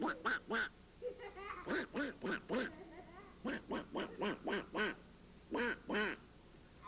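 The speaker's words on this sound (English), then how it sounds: "Did you hear that duck go?" Rhythmic bursts of duck quacking, loud and close, coming in quick groups of two to four with short pauses between.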